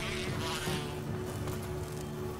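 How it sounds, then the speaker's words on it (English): Bees drone in Resident Evil HD Remaster, a steady insect buzz that continues unbroken at a moderate level beneath the game's low background ambience. "Yo, if I had my knife, could I take out the damn bees?"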